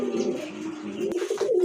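Large Indian Lucknow pigeons with feathered feet coo nearby, a short run of low, rolling throaty calls with no voices over them.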